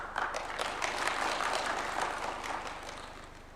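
Audience applause at a State House ceremony of Kenya's National Council on the Administration of Justice, a steady wash of many hands clapping from a medium distance, holding level before easing slightly near the end.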